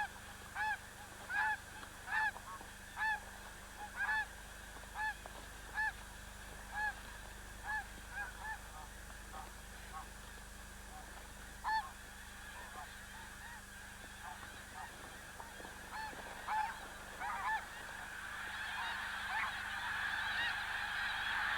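Geese honking in a snowy winter landscape, a steady series of distinct, moderately distant calls repeating every second or so, thinning out later while a soft hiss of wind rises.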